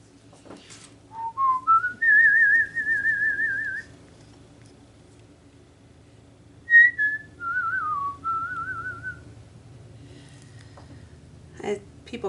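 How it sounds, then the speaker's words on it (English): A person whistles a tune while painting tropical flowers, giving two clear melodic phrases of sustained and wavering notes with a pause between them, close and fairly loud. "people comment about my whistling."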